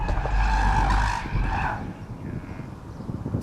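A 2024 BMW iX2 electric SUV swerving through a moose-test avoidance manoeuvre on a test track, its tires skidding loudly for about two seconds before the squeal fades into lighter road and tire noise.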